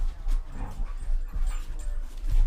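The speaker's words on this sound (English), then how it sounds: "Dogs are getting into this" Several dogs whimper and whine with short yips amid a low rumbling background, moderately close and continuous, while people talk faintly nearby.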